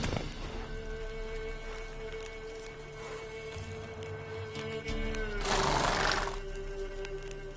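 Roach, the horse from The Witcher 3: Wild Hunt, whinnies and snorts over a steady game ambience with a sustained tonal hum, then a louder rushing burst near the end suggests movement or galloping.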